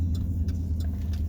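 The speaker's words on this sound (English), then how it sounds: "I'm trying to focus on driving and not talk" A car driving along a road after dark, its engine a low, steady hum with soft road rumble throughout, the ride continuous and even with a few faint ticks above it.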